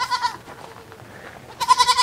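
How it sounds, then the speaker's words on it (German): Goats bleat in an enclosure at a campsite in Tuscany, a few loud calls at the start and again near the end, with quieter bleating between, no talk. "Es gibt ein Gehege mit Ziegen"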